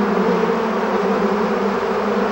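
A dense, loud, continuous buzzing of a swarm of about 160 million hungry, overexcited bees, steady and close with no pauses.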